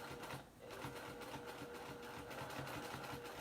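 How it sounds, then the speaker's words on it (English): A sewing machine stitches in the ditch along quilt binding, a fast steady mechanical whir with even rhythmic clicking, close but quiet, with a brief slowdown near the start. "I'm going to stitch in the ditch right here"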